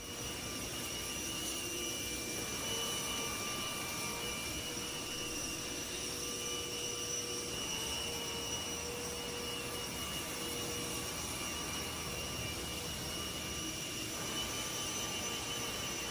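The huge wing flaps of a large jet aircraft retract up into the wing with a steady, even mechanical whine and rushing drone. It is continuous and fairly faint, with no talking.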